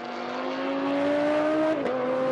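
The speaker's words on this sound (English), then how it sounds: "So the number 3 car of Grégoire de Moustière exits behind." A GT3 race car engine exiting pit lane at Zandvoort holds a steady, loud high-pitched drone, then its pitch dips sharply near the end as it shifts or lifts off, alone with no talk.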